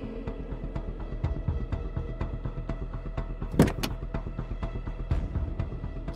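A car pulls up and stops outside a house, its engine humming steadily near at hand, with a sharp door-like clunk partway through and small mechanical ticks and clicks around it.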